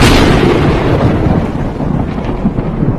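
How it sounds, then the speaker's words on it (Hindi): A loud crack of thunder from a storm sky, bursting at full strength then rolling and rumbling away over a few seconds. "अचानक आसमान में बिजली कड़कने लगी"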